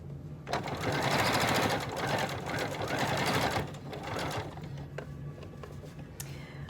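A sewing machine stitches a fabric mask in a steady, rapid mechanical run for a few seconds, then slows to a quieter hum with light clicks.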